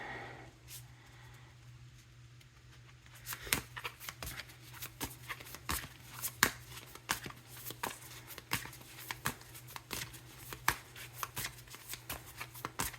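A deck of tarot cards being shuffled close by, a quiet rustle at first, then a steady run of crisp riffling slaps and flutters over a low background hum.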